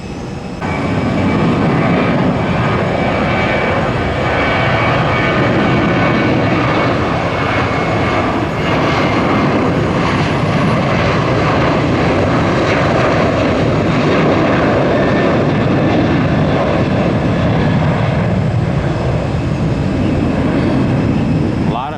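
A United Airlines airliner roars steadily as its jet engines run, bound cross-country for San Francisco, a loud, continuous broadband rumble that holds for the whole span with no break.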